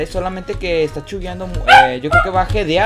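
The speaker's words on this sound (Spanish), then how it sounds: "Y mi perro no se calla." A dog barks and yips repeatedly indoors, short sharp calls scattered under a man's continuous speech.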